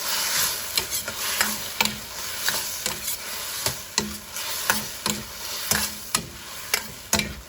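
Chinese cabbage stir-fried with a vinegar sauce in a wok: steady close sizzling broken by regular, sharp scraping strokes of the spatula against the metal, repeating roughly every half second with no voices.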